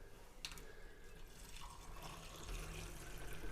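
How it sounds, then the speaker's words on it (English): Cold tap water runs steadily into a container as part of a damp and black mould cleaning demonstration, a continuous splashing flow that grows slightly fuller and louder toward the end. "let's run some cold water into there"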